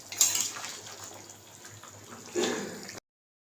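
Running water flows in a kitchen sink during washing up, a soft, steady hiss with a few faint clinks of dishes and a brief louder splash near the end before it cuts off.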